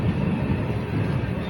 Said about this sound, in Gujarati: આપણી ટ્રેન હજી જેતલસર જંકશનમાં એન્ટર થાય છે